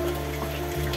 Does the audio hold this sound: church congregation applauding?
no